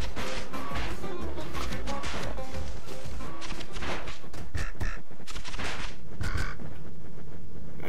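Birds squawk and scuffle in the Bastion video game, a dense, loud run of harsh quacking and croaking cries with crashing hits and busy game effects throughout.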